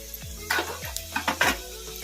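Peeled garlic and a spoonful of cumin seeds hit hot oil in a pan for thali saaru, giving brief bursts of sizzling and crackling over a low cooking hum, with no voices.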